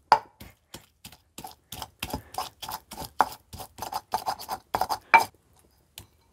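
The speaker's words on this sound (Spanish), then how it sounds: "Voy a empezar a moler el chile con el ajo." Stone pestle grinding chile and garlic in a volcanic-rock molcajete, a close series of sharp, irregular scraping and tapping strokes with short pauses between them, heard alone.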